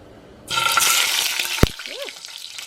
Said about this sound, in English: now that my oil is warm